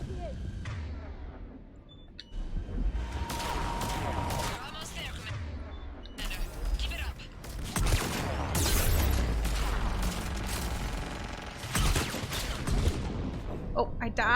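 Rapid bursts of heavy gunfire and booming blasts erupt in Mass Effect Legendary Edition combat against a harvester, loud and close, with rattling volleys and explosions piling over one another.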